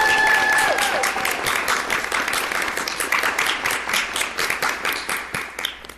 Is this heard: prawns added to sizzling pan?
no